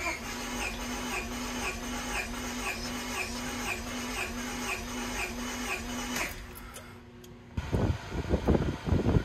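A Honda H22A engine cranks over on the starter during a compression test, a steady, even mechanical whir with a regular pulsing beat for about six seconds before it cuts off, followed by handling noises.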